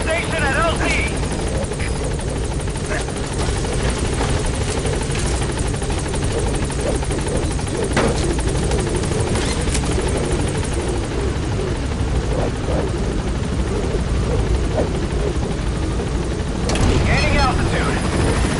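A helicopter arrives at a landing zone in Metal Gear Solid V, its loud continuous rotor thrum and engine whine filling the scene throughout, with radio-style voices heard over it.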